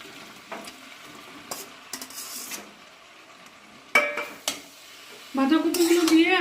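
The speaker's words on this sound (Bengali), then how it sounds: "বাঁধাকপিগুলো দিয়ে এখন ভাজা ভাজা করে নিতে হবে।" Steamed cabbage is stir-fried in a pan with boiled potatoes and tomatoes: scattered spatula scrapes and clanks against the pan, then a louder sustained sizzle with stirring near the end.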